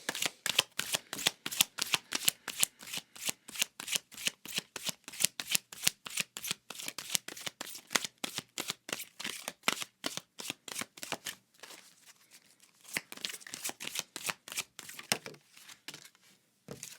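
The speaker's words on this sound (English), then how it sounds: "And we're going to pull a Goddess card." Oracle cards being shuffled before a Goddess card is drawn: a fast, steady run of crisp riffling slaps for about eleven seconds, a brief pause, then more shuffling, close and clear with no talking.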